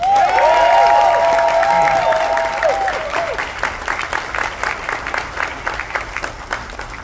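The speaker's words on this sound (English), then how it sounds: "Let's give a big round of applause to Attorney George Jero Valenton." Applause from an audience at a company event, a dense burst of clapping with cheering and whistles at first, then thinning into distinct, looser claps that gradually fade.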